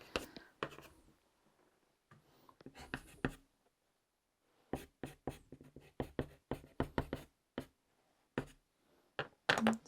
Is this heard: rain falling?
no